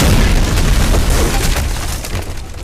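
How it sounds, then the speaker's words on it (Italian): A loud, close explosion blows a door off its frame, a heavy rumbling boom that rolls on and slowly decays with crackling debris. "L'esplosione all'esterno strappò via la porta dagli infissi, scagliandola assieme a me in fondo alla stanza."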